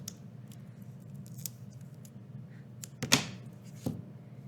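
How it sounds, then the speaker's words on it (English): Scissors snip through a strip of packing tape, one sharp cut standing out near the middle with a lighter follow-up just after, over a low steady background hum. "you're going to cut off a piece of tape"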